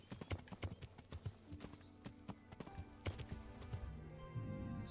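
Horse hooves clip-clopping in the video game Kingdom Come: Deliverance at a steady walking rhythm over soft background music, the hoofbeats close and distinct.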